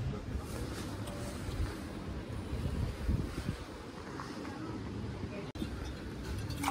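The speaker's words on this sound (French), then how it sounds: "il y a un peu de vent" Steady wind buffets the microphone outdoors on the island of Madeira, a constant low roar with no break and no voices.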